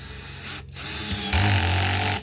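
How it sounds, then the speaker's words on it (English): A power drill whirs as it bores holes into the bottom of a plastic planter container, with a short motor run, a brief stop, then a louder higher-pitched burst before cutting off. "You're drilling holes in the bottom of a container"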